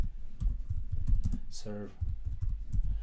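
A command is typed on a computer keyboard as a quick run of light clicking keystrokes, with a short spoken word in the middle.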